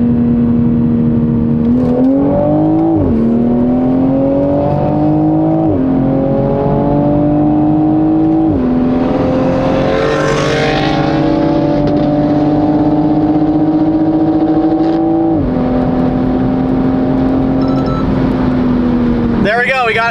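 A modified Toyota Supra accelerating hard from 60 to 130 on a road in Mexico, its engine droning loud and close with a steadily rising pitch broken by brief dips at each gear change across the full pull.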